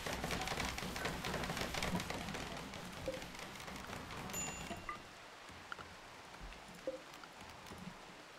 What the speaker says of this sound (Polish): nawet pada deszcz, to powinno być chyba trochę chłodniej